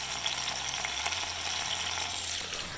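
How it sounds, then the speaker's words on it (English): Capers sizzle and spit in hot oil in a pan, a steady close crackling hiss with no pauses, loud and unbroken throughout. "we're going to add our capers to the oil once it gets nice and hot"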